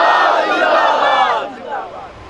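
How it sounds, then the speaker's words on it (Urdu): A large crowd at a religious gathering shouts a slogan back in unison, a loud, massed roar of many voices that drops off partway through into a quieter second call. "آپ نے بھی نعرہ لگایا, سب نے جواب دیا"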